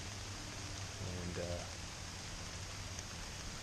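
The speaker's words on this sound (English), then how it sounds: "it's raining." Steady rain falling outdoors, heard from beneath a large tree, makes a dense, even hiss throughout, with a brief low murmur of voice partway through.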